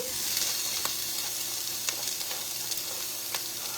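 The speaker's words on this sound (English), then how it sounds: "In goes the broccoli." Broccoli hits a hot pan in a stir-fry, a sustained close sizzle with a few scraping stirring clicks and no talking.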